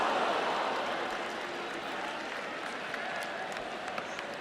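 A large stadium crowd at a Real Madrid vs Inter preseason match in Berkeley claps and cheers in a continuous broad wash of applause, steady and fairly distant.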